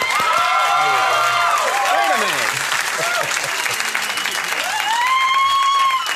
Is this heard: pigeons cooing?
no